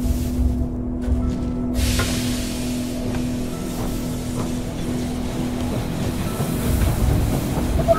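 A steam-era train rolls into a station in the strategy game They Are Billions, a steady low rumble with a sustained hum and faint clanks under ambient noise, without talk.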